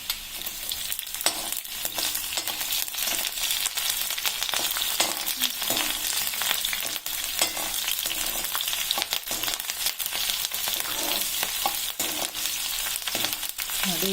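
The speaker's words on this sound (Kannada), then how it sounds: "ಕಟ್ ಮಾಡಿರೋ ಬೆಳ್ಳುಳ್ಳಿ ಏನಿದೆಯೋ ಅದು ಹಾಕೋಣ. ನೋಡಿ, ಫ್ರೈ ಆಗ್ತಾ ಇದೆ." Chopped garlic fries in a pan, a steady crackling sizzle with scattered pops and stirring scrapes running throughout, close and with no talking.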